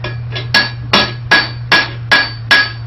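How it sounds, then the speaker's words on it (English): Hammer striking a steel bar on the square side of a blacksmith's anvil, six or seven sharp ringing metallic blows in a steady rhythm, close and loud over a low background hum. "You just put it on the side of your anvil, and if the anvil got a square side, you just hit it."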